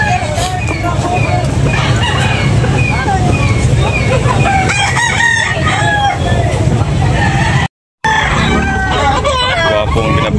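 Roosters crow repeatedly at a busy chicken market in Carbon, Cebu, with several overlapping cock-a-doodle-doos and clucks over a steady crowd babble and people talking nearby.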